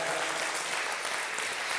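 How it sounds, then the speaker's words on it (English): Audience applause in a church service, a steady dense wash of many hands clapping that continues evenly throughout without a break. "let's give them all another round of applause, please"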